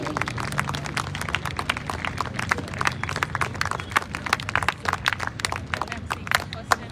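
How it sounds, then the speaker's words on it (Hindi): An audience at a Republic Day celebration claps in honor of a senior NCC captain, a dense, moderately distant patter of many hands continuing steadily for several seconds. "जोरदार तालियां होनी चाहिए मैम के लिए।"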